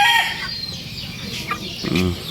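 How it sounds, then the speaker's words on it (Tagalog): Brahma chickens cluck and call at close range in a farmyard, a short burst of throaty clucks ending in a louder squawk. "mas malalaki ito, mas malalaking lahi ito, Brahma chicken"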